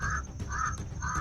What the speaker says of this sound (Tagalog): Uwak dito.